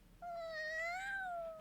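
A single drawn-out cat meow, rising then falling, clear and fairly close, with no other sounds around it.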